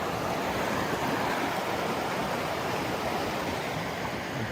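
Branching river water rushes over rocks along a mountain trail, a steady broadband roar with no breaks, close and fairly loud, with no voices.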